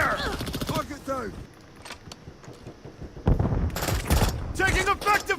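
Bursts of rapid gunfire from a military shooter video game crackle in clusters, heavy at the start and again toward the end, while voices call out over the shooting.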